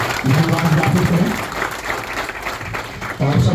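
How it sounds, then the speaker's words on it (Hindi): Applause from an audience at a police line event in Bhagalpur, a steady burst of clapping with a voice heard speaking over it at the start and end. "एक जोरदार तालियों के साथ इनका धन्यवाद ज्ञापित करें।"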